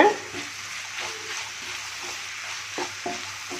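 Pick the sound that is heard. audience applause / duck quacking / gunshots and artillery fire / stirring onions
stirring onions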